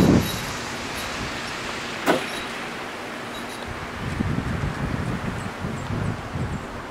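Wind blowing around a small WindMax wind turbine outdoors: a steady, rough broadband rush with a brief gust thump near the start and a slightly louder, more turbulent stretch toward the end, no voices.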